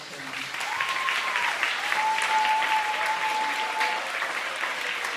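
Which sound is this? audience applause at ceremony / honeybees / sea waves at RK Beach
audience applause at ceremony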